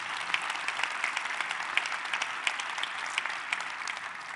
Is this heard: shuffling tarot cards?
no